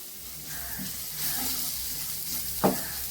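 Chili powder fries on a low flame in a pan for a brinjal and drumstick curry, a quiet, continuous sizzle with light hissing and one short stirring scrape near the end.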